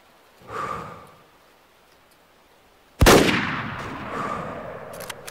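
A single loud rifle shot rings out at a whitetail deer in the hunting video game Way of the Hunter, a sharp crack with a long rolling echo, preceded by a soft breath.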